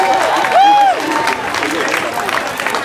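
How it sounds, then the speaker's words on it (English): Rally crowd in Peekskill claps for a speaker named Joseph, loud scattered clapping mixed with voices and a brief high whistle near the start. "clap it up for Joseph,"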